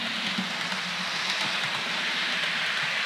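A model Great Western Railway Class 43 runs on a home layout, producing a steady, soft, hissing mechanical hum with a faint rhythmic clatter, continuous and moderately close.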